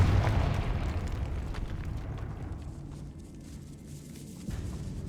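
A Confringo blasting spell goes off in Hogwarts Legacy, a deep booming explosion that starts loud and decays into a long low rumble fading away over several seconds, with no talk.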